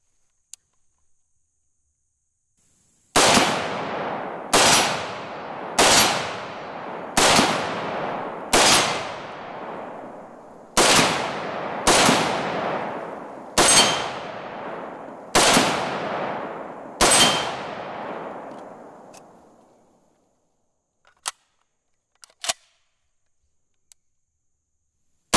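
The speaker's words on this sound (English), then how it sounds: "All right, here we go. SCAR 17S. First shots." An FN SCAR 17S .308 carbine fires about ten loud, close shots at a steady, deliberate pace, each sharp crack trailing off in a long decaying echo, followed by a few faint clicks after the firing stops.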